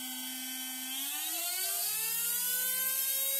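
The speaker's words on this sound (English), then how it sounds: "this is a higher KV motor and already that's a lot quieter" A cheap 3650 brushless RC motor spins steadily during a KV test, giving a continuous high whine with tones that glide upward as it speeds up, close and fairly loud with no talk.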